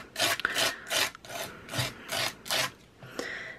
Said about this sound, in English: I'm going to take my stencil and I'm going to apply it through the stencil